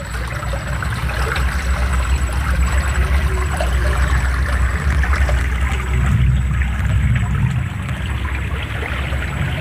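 Small river stream flowing in a rural spot where eels are fished, a loud continuous wash of running water close by, steady and broadband with a faint high whine in the background and no talk.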